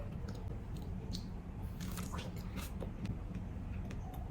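Crisp fresh strawberries are bitten and chewed close up, giving soft, wet crunching and squishing bursts over a steady low background hum, with no talking.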